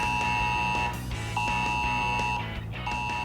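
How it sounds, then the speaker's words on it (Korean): An AI electrical safety monitoring system sounds a danger alarm: repeated steady electronic tones in bursts with brief gaps, loud and near, with no talk. "그때 갑자기 울리는 알람 소리."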